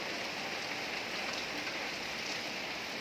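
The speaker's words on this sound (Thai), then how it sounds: "ฝนก็ตกพลำพลำ" Steady rain patters continuously on a surface, a soft even hiss with no pauses or other sounds.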